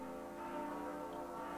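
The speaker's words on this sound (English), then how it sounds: "with those bells chiming in the background" Bells of Luther's Corners Church ring with a sustained, overlapping hum of tones, heard distantly and steadily in a quiet night setting with no talk.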